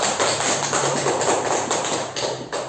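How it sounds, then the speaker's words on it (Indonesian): Schoolchildren in a math classroom applauding a group, giving a dense, steady patter of many hands clapping together for a few seconds, close and fairly loud. "berikan aplaus kepada kelompok 1"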